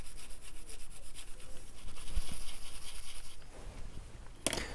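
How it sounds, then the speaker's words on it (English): Damage is rubbed off a Nintendo 2DS in a steady series of close, rhythmic scrubbing strokes, ending with a sharp click. "Just gonna see if I can scrub that away."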